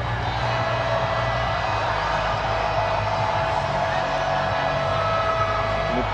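A basketball crowd at a close-finishing MPBL game, Batangas City vs Gensan Warriors, cheers with a continuous dense roar that stays steady and fairly loud throughout.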